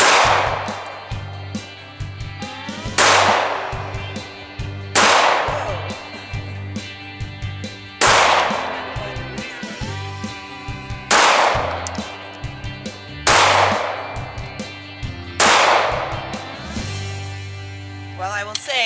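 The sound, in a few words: pistol gunshots, Glock 43 vs Walther CCP, 115 grain ammo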